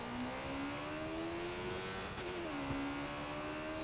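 In the video game Watch Dogs 2, a car engine is pushed to full throttle, giving a loud, steady, close roar with droning tones that climb in pitch and then shift as it keeps accelerating, with no talk.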